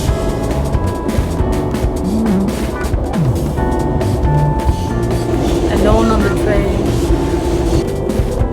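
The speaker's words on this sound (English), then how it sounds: "Literally a 2-minute train ride." Rumbling interior noise of a train ride in Sydney, with steady clattering and squealing wheels, rattling carriage sounds and intermittent voices of people talking nearby.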